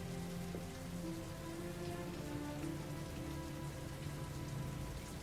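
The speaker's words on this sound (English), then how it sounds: "David Cage announces the weather based on the temperature in Fahrenheit, based on the inches of rain in Heavy Rain" Steady rain patters and hisses on surfaces in the video game Heavy Rain, a constant, moderately quiet downpour with no voices.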